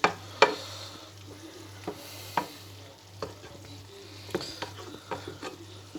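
Chicken cooking in a skillet with a low steady sizzle, broken by scattered utensil scrapes and knocks as it is stirred, close by, with a constant low hum underneath and no voices.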